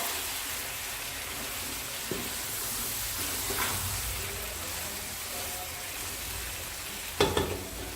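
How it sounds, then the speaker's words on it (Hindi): Green chillies and tomatoes frying in oil for chicken biryani give a steady close sizzle with occasional clinks of a spoon stirring, and a louder scrape and clatter near the end. "सब्ज़ मिर्च और टमाटर। इनको भी जो अच्छी तरह वो मिक्स करेंगे और इनको जो है वो फ्राई करेंगे"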